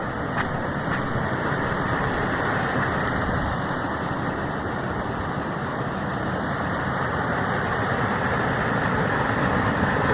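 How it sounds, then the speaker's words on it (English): A raging river swollen by torrential rain on an overnight hike roars in a loud, steady broadband rush, continuous and close with no pauses. "Now the river sounds like it is raging"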